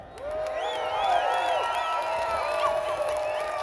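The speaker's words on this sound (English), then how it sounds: "Cheer for Norman" A crowd cheers and whoops loudly and continuously, with scattered shouts and some clapping mixed in, sustained throughout without pause.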